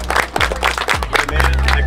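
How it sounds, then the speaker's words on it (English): A youth football team claps together in rhythmic unison, a quick run of sharp, close claps with voices shouting over them. "Y'all clap it up again."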